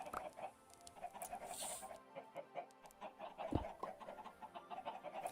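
Minecraft chickens in a coop, several short soft clucks scattered through a quiet game scene with faint background game sounds.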